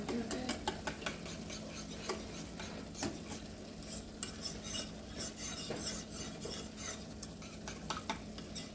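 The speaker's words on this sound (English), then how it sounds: "Mix that all in there." A spoon stirs a cheesy chicken, broccoli and rice mixture in a pan, giving steady scraping and clinking of utensil against cookware with a faint sizzle, fairly quiet, with no talking.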